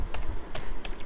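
Someone types ipconfig on a computer keyboard: a brief run of a few quick, light key clicks at close range, alone in a quiet room.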